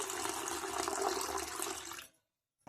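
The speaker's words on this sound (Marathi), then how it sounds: "आता याच्यात आपण थोडस पाणी ओतू।" Water poured into a bowl of yogurt for kadhi, a close, bright splashing pour lasting about two seconds that cuts off abruptly into silence.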